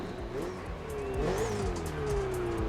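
A Ferrari racing car's engine roars in The Crew Motorfest, a loud continuous drone with a rising and falling pitch as it revs and accelerates, layered over steady road rumble, with no talking.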